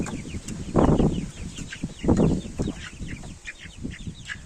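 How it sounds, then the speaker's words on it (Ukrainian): Several roosters cluck and grumble close by, with two louder bursts of clucking over a busy background of softer chirps and calls from the flock. "тут у нас практично самі півні півні, півниська, півники, півнюшечки"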